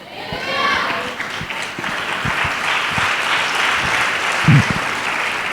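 An audience applauds during a live Telugu Christian sermon to young people, a dense wash of clapping that swells early and holds steady, with scattered louder claps and thumps and some voices mixed in.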